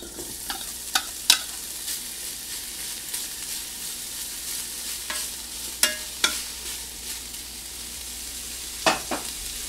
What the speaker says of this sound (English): now we're going to brown our sausage